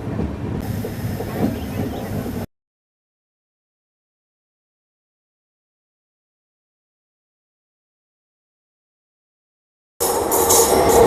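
Kanchankanya Express rolling through Chapramari forest, a steady rumble with clattering wheels and a faint hiss. The sound cuts out completely for several seconds, then returns just as loud.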